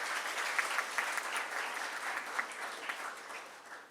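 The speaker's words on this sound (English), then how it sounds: "So big round of applause that gentleman." Dense, steady applause from an audience at a business school commencement lecture fills the whole stretch, with a few sharper individual claps standing out from the wash of hands.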